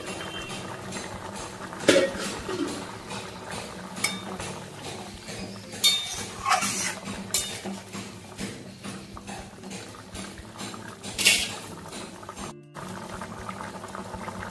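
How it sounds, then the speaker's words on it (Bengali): A lid comes off a covered pot of simmering chicken curry with a few sharp metallic clinks and clatters over a steady low bubbling hiss, close by with no talking. "10 মিনিট হয়ে গেছে, ঢাকাটা খুলছি।"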